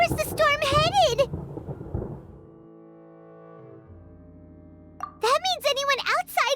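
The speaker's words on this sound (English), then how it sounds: "Paimon hears thunder!" Deep rolling thunder from the video game Genshin Impact, a low rumble that swells and fades through a pause between two stretches of animated character speech.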